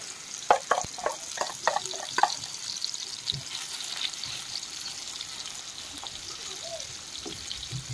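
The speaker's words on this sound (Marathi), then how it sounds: "चार मुशा नुसत्या फ्राय करते" Shark fish pieces fry in a pan with a soft, low sizzle, opening with a short cluster of clattering stirs before settling into faint, steady frying and occasional small knocks.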